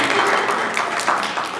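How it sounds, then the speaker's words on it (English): A conference audience of women leaders breaks into loud, dense applause, a steady close wash of clapping filling the short moment. "Yeah, round of applause."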